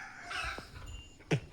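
A broody hen sitting in a basket gives a few soft clucks, followed by one sharper, louder call near the end, quiet and close with no talking.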